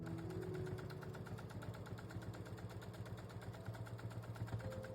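A sewing machine stitches fabric binding onto a triangle bunting panel, running as a steady, rapid mechanical patter with a continuous low motor hum, moderately quiet and with no talking.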